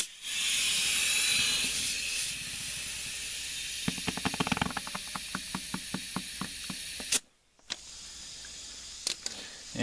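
Compressed air hisses loudly into a plow tail wheel tire through its valve stem, a strong steady rush followed by a run of rapid pulsing puffs, a brief cutoff, then more bursts up close.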